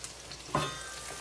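Chicken and longanisa sausage cooking in a pan over medium heat make a soft, steady frying sizzle with a brief louder crackle near the middle, heard close and alone.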